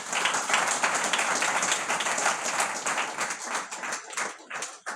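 A lecture-series audience applauds, a dense, steady wash of many hands clapping that thins and tapers off in the final second, with no talking.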